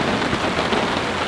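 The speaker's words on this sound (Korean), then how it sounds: "빗소리 조금 듣다가" Dense, steady rainfall at a campsite beside a stream, with a continuous hiss of drops hitting surfaces, fairly close and unbroken, with no voices.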